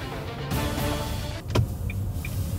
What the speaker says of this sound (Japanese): 今、安全運転である場所に向かっております。